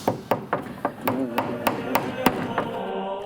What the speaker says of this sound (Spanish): con martillo en mano, clavos, pegamento y madera